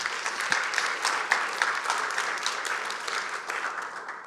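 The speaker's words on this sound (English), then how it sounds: "Let's give those folks a round of applause." Audience applause for a volunteer team, a steady round of clapping of moderate loudness lasting a few seconds with no talk over it.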